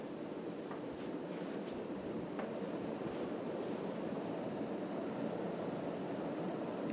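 A Casablanca Panama 5 ceiling fan spins at full speed, giving a steady, airy whoosh that stays even and unbroken throughout, with no talking.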